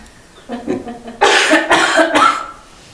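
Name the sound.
cough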